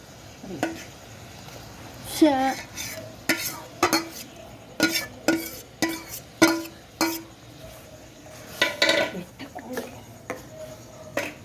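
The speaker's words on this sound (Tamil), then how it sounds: "இப்போ நாம் இதை வந்து அடுப்பில் காய்ச்சிட்டோம் ஃப்ரெண்ட்ஸ்" Mango jam cooking in a pot on the stove: a series of close, irregular spoon scrapes and clanks against the vessel over a soft bubbling background, without speech.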